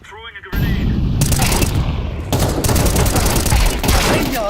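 Loud, dense gunfire from a Counter-Strike match, with rapid bursts and a grenade blast filling the space after a brief quiet start, the shots continuing steadily to the end.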